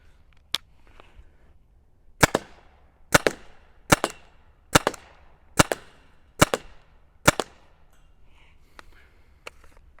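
Mission TCR firing kinetic rounds into a piece of wood: about eight sharp, loud cracks spaced roughly a second apart, each followed by a brief impact rattle, with quiet room noise between shots.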